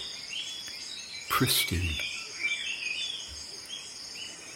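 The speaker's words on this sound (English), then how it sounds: "The dawn sounds of tropical birds." A dawn chorus of tropical birds in a Zambian reserve near the Luangwa River. Many faint, layered chirps and calls sound from a distance, with insect trilling underneath, and a single spoken word cuts through partway.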